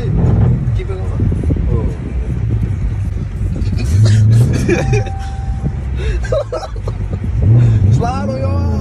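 A car doing donuts revs its engine in rising and falling surges under loud, continuous talk from people inside.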